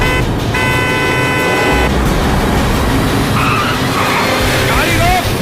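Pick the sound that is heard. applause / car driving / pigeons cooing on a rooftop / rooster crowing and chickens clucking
car driving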